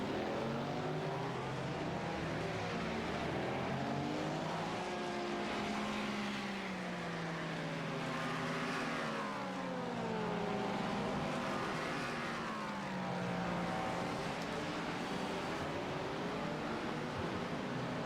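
Race car engines drone steadily with pitch sweeps as cars pass during a sim racing endurance event, the 10 Hours of Hockenheim, heard at moderate distance with no talking.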